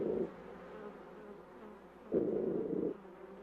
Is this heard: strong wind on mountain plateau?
no